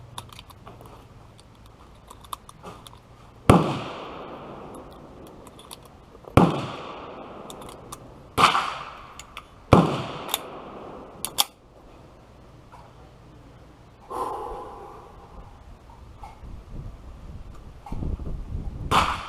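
Shots from a CZ 75 Compact 9mm pistol fired one at a time, with sharp loud reports spaced a few seconds apart, followed near the end by a quicker, denser burst of shots.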